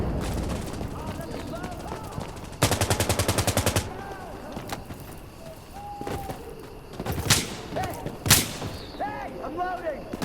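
Gunfire in the video game Insurgency Sandstorm: a rapid automatic burst of evenly spaced shots, then scattered single cracks and distant reports. Players talk over the shooting.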